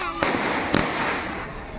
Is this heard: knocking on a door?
no